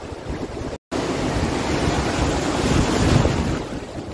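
Surf washes steadily onto a Konkan beach under heavy buffeting wind on the microphone. The roar stays loud and continuous except for a split-second dropout, and no one speaks.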